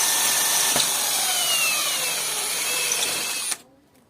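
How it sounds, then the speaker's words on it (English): A power drill bores into soft brick without hammer action while a hose stand is being installed: a close, steady high-pitched whine for about three and a half seconds, then it cuts off abruptly into quiet. "This brick is very soft, so I'm not even using the hammer function."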